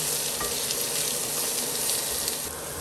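Jalapenos and onions fry with bacon in a skillet, a dense, steady sizzle and crackle heard up close, with a faint stir midway and no voices.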